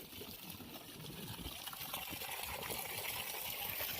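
Water pouring from the outlet of a 3hp PMSM solar pump, a steady trickling, splashing flow that slowly grows louder, heard alone outdoors.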